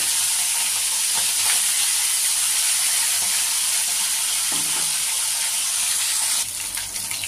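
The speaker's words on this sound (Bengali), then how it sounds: "এবার আমি একে একে মাছগুলো তেলে ছেড়ে দেব। বেশি কড়া করে ভাজবো না, হালকা ভাজবো।" Pieces of bhola fish lightly frying in hot oil, producing a continuous close, dense sizzle and hiss that drops slightly near the end.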